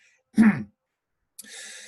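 A single short, close cough or throat-clear, followed after a pause by a soft breathy hiss.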